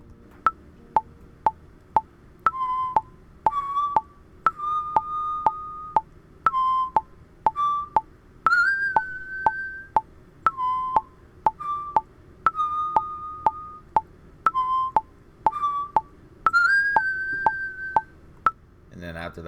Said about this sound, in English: Just got the whistles recorded.